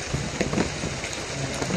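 Steady rain pattering on a surface, a dense continuous hiss with scattered louder drops, close by and with no voices.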